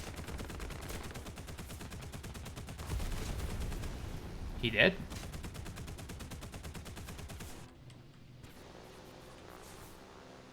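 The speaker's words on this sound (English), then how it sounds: "Those are all 20mm cannon rounds that are not killing me" 20mm cannon rounds fire in a video game as dense rapid bursts of gunfire that fill most of the stretch, then give way to quieter background noise, with a brief spoken line partway through.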